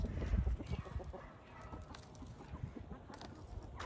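Chickens clucking in a farmyard coop, a close cluster of low, busy clucks that thins into scattered softer calls.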